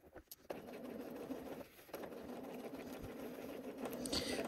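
A sewing machine stitches slowly on a garment seam, a soft, close rumbling whir with faint irregular clicks and brief pauses, fairly quiet overall.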